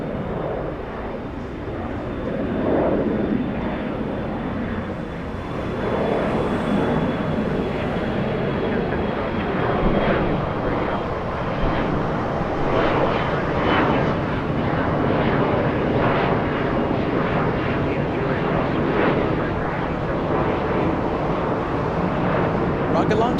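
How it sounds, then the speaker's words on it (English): A SkyWest Embraer E175 jet takes off from Los Angeles International Airport, bound for San Francisco. Its broad engine roar rises and holds loud and continuous for over twenty seconds. "Early liftoff by SkyWest 3305 heading to San Francisco."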